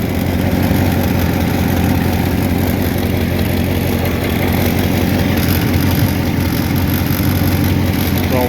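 A Ford Thunderbird engine idles steadily and loudly up close, a constant low rumble with no change in pace and no talking.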